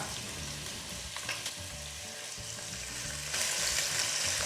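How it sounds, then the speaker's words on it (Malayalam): Steady sizzling of marinated chicken frying in hot oil, close and continuous, growing a bit louder and brighter near the end, with occasional stirring. "മാരിനേറ്റ് ചെയ്ത് വെച്ചിരിക്കുന്ന ചിക്കൻ നമുക്ക് ഫ്രൈ ആക്കി എടുക്കണം"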